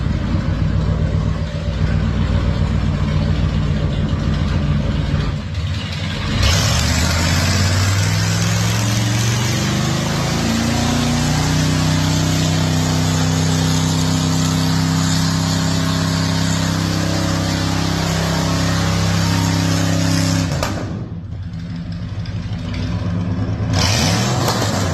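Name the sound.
car engine revving in shop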